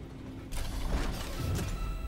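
A train in Remnant 2 starts rolling, giving a continuous mechanical rumble with creaking, clanking metal that swells suddenly after a brief quiet moment and then holds steady at close range.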